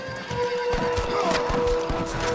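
A horse whinnies loudly in a Red Dead Redemption game scene, the neigh rising and wavering over hoof clip-clops and general game ambience, close and prominent.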